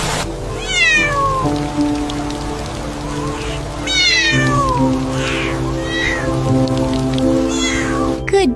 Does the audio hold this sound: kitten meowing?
yes